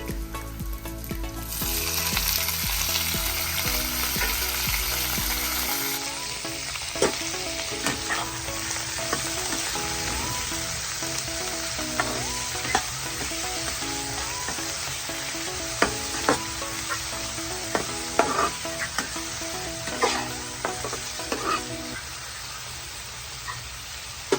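Onions browning in a pan hiss and sizzle steadily at close range while a utensil stirs and scrapes them in irregular knocks, and the frying softens a little toward the end.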